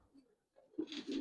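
Gribaz coloring highflyer pigeons coo softly in short, low murmurs that grow fuller toward the end, close by and fairly quiet with no talking.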